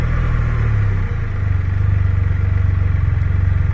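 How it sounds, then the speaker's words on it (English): A trike's engine hums steadily up close, dipping briefly as it downshifts on its own, then settling back into a continuous rumbling drone with a fluttering exhaust pulse. "And you see it's downshifting by itself."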